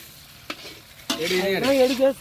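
Noodles stirred and frying in a pan, with a short scrape, then a loud, continuous sizzle and scraping of the utensil after about one second.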